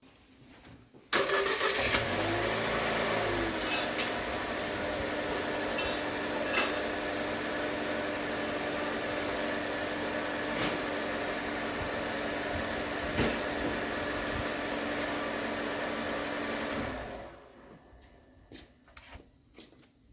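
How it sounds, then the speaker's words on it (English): A 2023 Nissan Versa 1.6 engine cranks and catches, then idles with a steady loud rumble and hiss for several seconds before cutting off, leaving a few faint clicks. "we are going to start the engine now"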